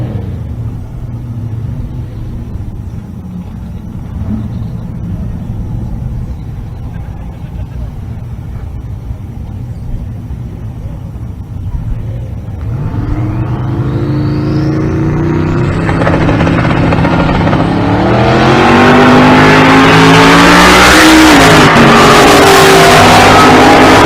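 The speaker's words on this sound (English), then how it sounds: "we got a second gen Camaro in the left lane. And S197 Mustang in the right." Second-generation Camaro and S197 Mustang launching in a drag race at a Pueblo, Colorado race event, engines rising from a distant rumble into a loud, revving roar that builds and sweeps as the cars accelerate.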